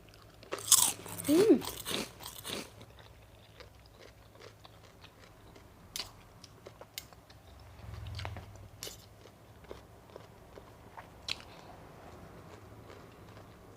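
Crunchy bites and chewing of stir-fried basil squid with rice, with a few louder crunches early and then softer, intermittent close chewing with no talking.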